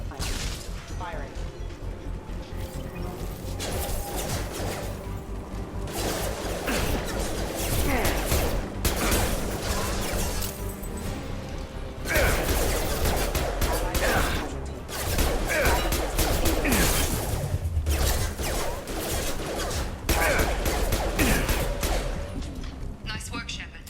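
Rapid bursts of gunfire and crashing impacts fill a Mass Effect 2 firefight against security mechs, loud and dense throughout with whooshes and brief lulls, while voices talk underneath.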